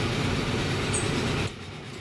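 A train rumbles along the rails in Transport Fever 2, a steady mid-distance roll with a faint high squeal before the noise drops off abruptly, no talk.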